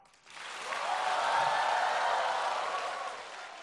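Studio audience of a Chinese stand-up comedy talk show applauding, a soft burst that swells quickly, holds steady, then tapers, with no talk over it.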